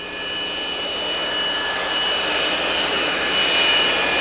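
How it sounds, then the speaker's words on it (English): Heavy military transport planes, C-5 and C-130, roll fully loaded down a runway at takeoff, a loud continuous roar of aircraft engines with a steady whine, building slightly in the final second, with no voices. "When the mighty C-5 and C-130 transport crafts are fully loaded, they lumber down the runway"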